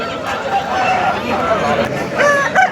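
A Kakinamma rooster crows amid the steady hubbub of a busy Sunday poultry market in Peeleru, with a few bright, drawn-out calls cutting through near the end over crowd noise and voices.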